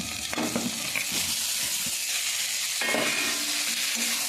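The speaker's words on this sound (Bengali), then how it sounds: "এবার আমি যে ভেজে রেখেছিলাম সবজিগুলো মশলার সঙ্গে দিয়ে দেব" Vegetables that were fried earlier go into a pan of sizzling spices for a fish curry, with a sharp burst of frying and sizzle near the start and again near the end. The steady hiss of cooking runs between them, with light stirring scrapes.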